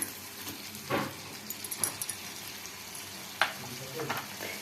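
Tomatoes hitting a hot pan of sizzling garlic and oil for a coconut-milk prawn curry, with a steady close frying hiss and scattered spatula scrapes and pops.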